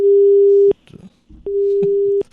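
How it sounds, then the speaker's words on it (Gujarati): A telephone busy tone after a call is cut off: two long, loud, steady beeps separated by a short gap with faint background noise, sounding close and clear over the line. "ફોન કટ કરી દીધો."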